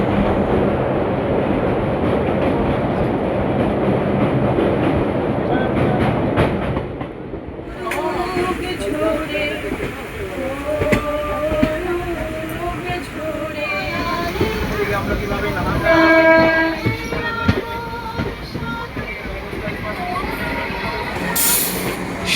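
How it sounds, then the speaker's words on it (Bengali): A passenger train rumbles across the Kalinarayanpur bridge over the Churni river, a loud wash of wheel and carriage noise that shifts in tone partway through while a voice talks over the later part. "আর এখন যাচ্ছে কালীনারায়ণপুর ব্রিজের উপর দিয়ে, আর নিচ দিয়ে বয়ে গেছে চূর্ণী নদী"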